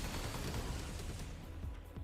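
Multi-rocket launchers fire in the 13 Sentinels video game as a dense, continuous barrage of overlapping rumbling blasts, loud and steady throughout, with no voices over it.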